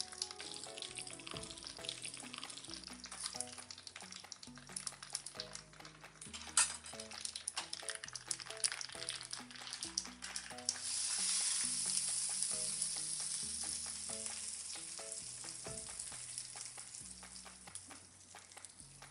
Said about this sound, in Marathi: आपण फोडणी चांगली गरम करून घेऊया।